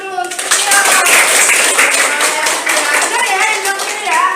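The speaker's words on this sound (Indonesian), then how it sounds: "yuk tepuk tangan dulu" Students in a dance lesson clap their hands together in a loud, close group burst, while voices talk and chatter over the clapping throughout.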